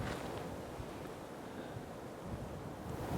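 Steady, blustery outdoor wind of about 10 mph with 15 mph gusts roaring across the microphone, a dense rushing noise that swells slightly toward the end, with no voices.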